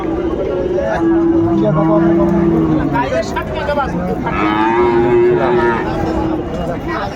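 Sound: cattle mooing

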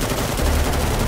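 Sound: gunfire in video game Metal Gear Solid V

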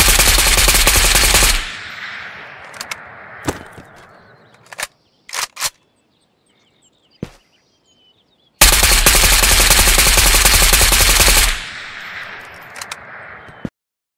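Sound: gun firing with FSG grip in Ghost of Tabor video game

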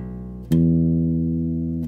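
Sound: bass guitar notes played smoothly legato

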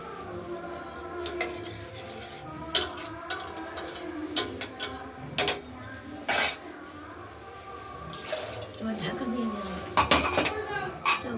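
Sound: pressure cooker lid being fitted on

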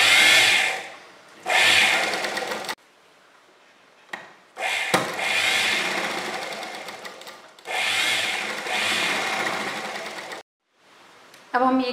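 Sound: sewing machine stitching fabric onto canvas

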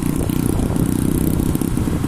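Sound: motorcycle engine running

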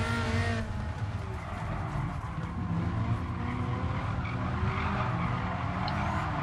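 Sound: Dodge Viper race car driving and skidding in Gran Turismo Sport video game

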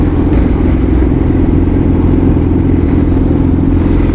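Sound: motorcycle engine running

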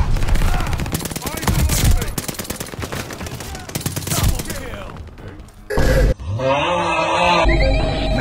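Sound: MP40 submachine gun fire in Call of Duty video game

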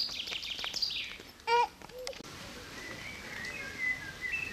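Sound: birds chirping

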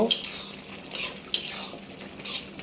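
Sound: stirring pangas fish in a pan

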